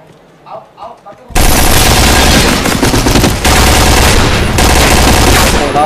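A brief voice comes first, then loud, dense bursts of automatic gunfire from a Point Blank tournament match fill the rest continuously, rattling and overlapping without pause.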